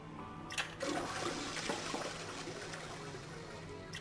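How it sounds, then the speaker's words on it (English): A toilet flushes in the video game 999 after a string is pulled, a steady rushing of water that fills the whole clip, with a couple of brief louder knocks near the start. "did you think you'd get to hear so many toilets flush?"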